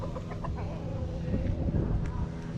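Free-range chickens cluck softly outdoors beside a road, the calls short and scattered beneath low background noise and some voices.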